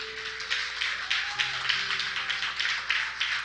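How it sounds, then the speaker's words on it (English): A church congregation claps hands in an uneven, moderately paced patter while soft organ or keyboard tones hold beneath, the claps close and sustained for several seconds. "let's just give them a hand clap."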